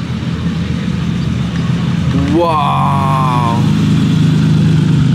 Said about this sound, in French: 250 GT California Short Wheelbase.